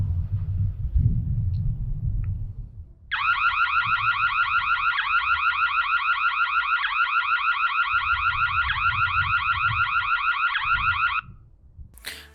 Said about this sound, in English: the alarm sound on here is loud enough to scare off intruders